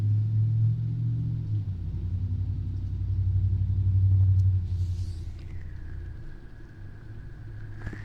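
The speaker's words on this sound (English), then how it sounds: "loud ass car." A loud car rumbles past with a deep, steady low roar that swells to a peak and fades, leaving a lingering hum afterward; no one speaks.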